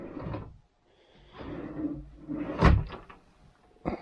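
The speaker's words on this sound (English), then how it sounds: "So all the drawers go nice and smooth." Soft-close drawers with smooth rollers slide shut several times in a row, each a soft rolling glide, one ending in a firmer muffled thump, followed by a short knock at the end.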